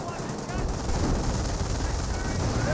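Dense, continuous gunfire and bursts in a Company of Heroes battle, with stun grenades going off among rapid machine-gun rattle, loud and unbroken for a few seconds.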